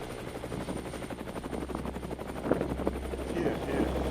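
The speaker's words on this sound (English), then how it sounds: "This is a delivery helicopter." Delivery helicopter in a conflict area in Sudan, rotor chop steady and continuous through the whole stretch, fairly loud and close, with faint voices in the background.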